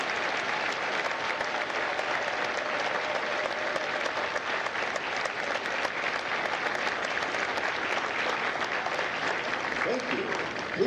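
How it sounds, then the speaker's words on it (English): Sustained applause from a large audience at a U.S. Marine Corps recruit graduation at MCRD San Diego, honoring Marine veterans, steady dense clapping throughout at moderate distance, filling the space evenly. "Ladies and gentlemen, a round of applause for the dedicated service to Corps."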